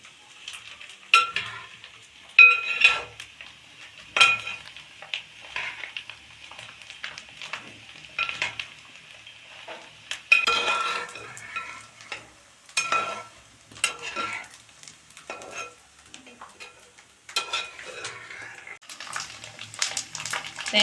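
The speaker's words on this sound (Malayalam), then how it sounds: "അരിഞ്ഞ വെച്ച തേങ്ങ നമുക്ക് വറുത്തെടുക്കാം" Chopped coconut fries in a pan, a soft sizzle broken by repeated scraping and stirring strokes that come in uneven bursts, close and fairly quiet, with no talking.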